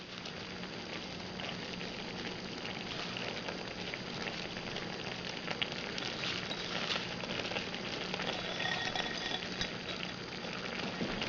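Spinach leaves hit a hot pan and hiss in a steady, dense crackling sizzle that holds at an even level throughout.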